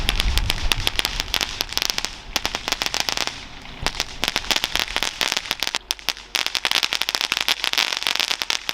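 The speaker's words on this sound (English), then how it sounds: "There are some big fireworks going off that I hear." Rapid bursts of Fourth of July fireworks crackling and popping, dense and loud, with a short lull before the barrage resumes.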